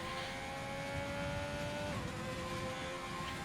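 A race car engine accelerates hard out of a hairpin during a pre-season race in France, one steady loud drone with a held tone that drops in pitch partway through, as on a gear change, with nobody talking.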